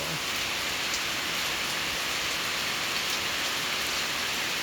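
Monsoon rain falls heavily and evenly in Laos, a continuous close hiss of drops on a surface, uninterrupted from start to finish.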